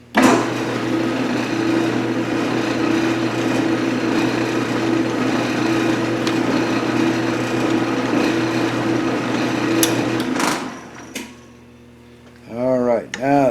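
Metal lathe running steadily for about ten seconds, a continuous whirring machine drone while cutting a light scratch on a gear cutter arbor, then stopping, with someone speaking briefly at the end.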